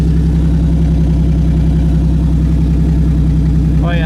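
An old Buick Regal derby car engine that had sat for three months runs loud and close, a steady rough idle with pulsing low rumble and revving throughout, no talk over it.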